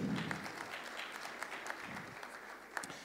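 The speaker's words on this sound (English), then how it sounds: "Please, can you give them a round of applause?" Conference audience applauding the Northwest Parks and Tourism Board at the SAAPAM annual conference in Sun City, a quiet, diffuse round of clapping that stays steady and fairly distant through the clip.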